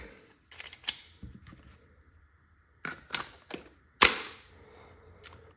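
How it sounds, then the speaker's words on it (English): Sharp pneumatic reports from a Valken M17 less-lethal pistol run on a gas magazine, several quick shots in uneven bursts, close and loud, with sharp transients and brief decays between them. "So there are 5 shots remaining in this G-Mag."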